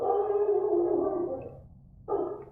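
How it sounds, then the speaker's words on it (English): A dog howls or bays in a drawn-out, wavering cry indoors, followed after a short pause by another burst, fairly close and loud. "Also apologize about the dog barking."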